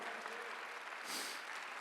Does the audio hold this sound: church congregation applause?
yes